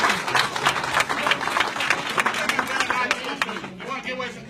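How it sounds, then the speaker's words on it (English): Audience applause for a presenter at a live economics presentation, a dense crowd clapping from start to finish with murmured voices and speech mixed in, fading slightly toward the end. "Give Mr. Stokes another round of applause."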